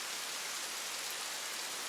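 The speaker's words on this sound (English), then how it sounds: "the sound of rain was soft and steady" Rain falls softly and steadily in a dense, even hiss with no gaps, like a continuous downpour heard as a sound effect, with no voices over it.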